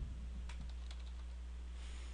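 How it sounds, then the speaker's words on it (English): Keys on a computer keyboard tapped in a few quick, light clicks near the start, then a short burst, fairly close and soft over a steady low hum with no talking. "I simply type in, start typing it in, hit enter"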